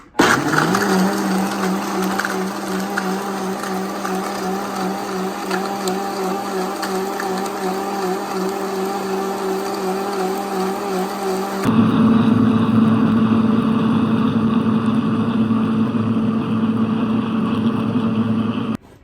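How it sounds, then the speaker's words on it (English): A blender runs loud and steady, its motor whine holding constant before shifting to a higher, harsher pitch partway through. "press to blend. So we're just gonna press this button here."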